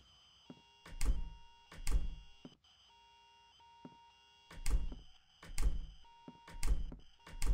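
A radio in a closet switches itself on in the horror game The Crooked Man, giving repeated electronic tones and thumping bursts in an uneven rhythm with quiet gaps between them.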